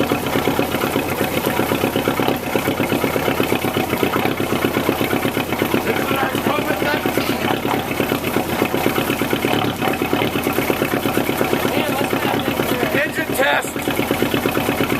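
A 1940 Lyman 16-foot yacht tender's inboard engine idles steadily on test, a loud, even rapid chugging that holds for the whole stretch with no voices over it.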